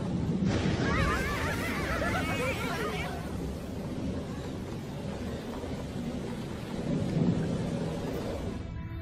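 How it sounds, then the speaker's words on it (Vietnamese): A film's storm scene: thunder rumbles heavily and rolls over a steady rain wash, loud throughout, with a brief crackling burst early on before the rumble swells again near the end. "Vừa sấm sét vừa có mưa,"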